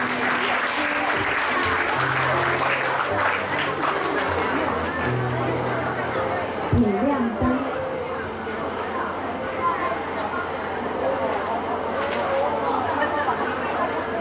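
An audience claps at the 99th graduation ceremony of Longtan Gaoyuan Elementary School, a sustained, dense round of applause in a large hall, with a voice speaking over it through a microphone.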